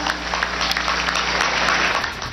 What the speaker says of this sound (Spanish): Un aplauso, por favor, regálenos para los profesores